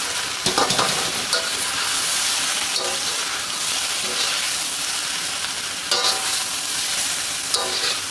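Snow peas stirred into rice and char siu pork in a hot pan, giving a loud, steady sizzle and hiss with occasional scraping strokes throughout.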